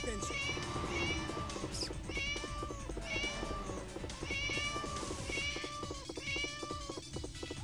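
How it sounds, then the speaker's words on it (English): A meow button on an arcade video game gives repeated cat meows at a steady rhythm over busy arcade machine noise. "the start is a meow button"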